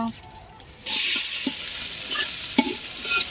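Ginger paste and chilli sizzle in hot oil in a pot as they are stirred, a sudden burst of frying hiss that stays steady with scraping stir knocks, close and fairly loud.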